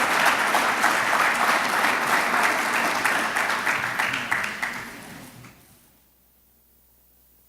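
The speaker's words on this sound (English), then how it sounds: "let's have another round of applause for Coach Brooks" Audience at an awards gala breaks into sustained applause, dense and fairly loud, holding steady for several seconds before thinning out and fading to near silence.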